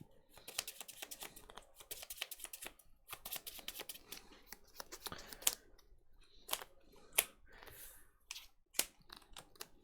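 Pokémon trading cards being shuffled by hand, a dense run of crisp riffling clicks and flicks through the whole stretch with a few sharper snaps, close and fairly quiet, with no talking.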